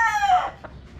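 A rooster crows once, close and loud, its call trailing off quickly into a brief fading tail.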